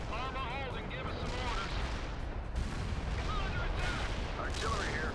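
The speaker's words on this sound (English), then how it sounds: "Artillery here, fire." Artillery fire in the real-time strategy game World in Conflict, a steady barrage of booms and gunfire under shouting voices and chatter, with shrill whistling sweeps over the din.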